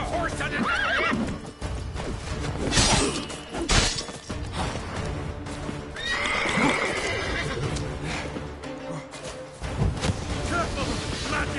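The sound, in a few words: horse neighing in the video game Witcher III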